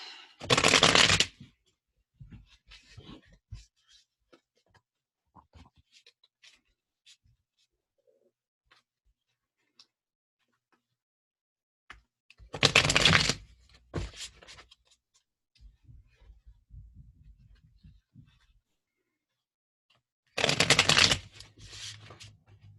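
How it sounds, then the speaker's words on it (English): Oracle cards shuffled in three loud, brief bursts spaced well apart, with quiet stretches of faint handling and rustle in between. "let's look at these cards and just get one for each of these pairs as a final message"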